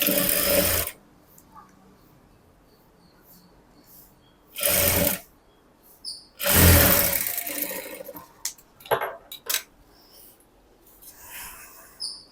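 A sewing machine stitches folded blouse fabric in a few loud mechanical bursts, the longest lasting under a second or two. Quieter gaps and scattered short clicks fall between them.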